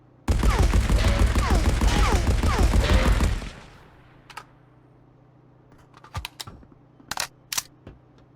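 Dense, rapid automatic gunfire from a gun fired while aiming down sights in the game Marauders, loud and close for about three seconds, then stopping abruptly, followed by a quiet stretch with scattered light clicks and clatter.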